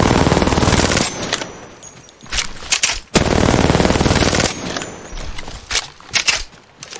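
Video game gunfire rattles out in long, loud bursts of rapid automatic shots close up, broken by brief pauses and scattered single shots.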